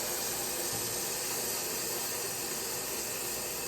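Oyster mushrooms searing in hot oil in a pan, a steady close sizzle and hiss that holds evenly throughout with no talking.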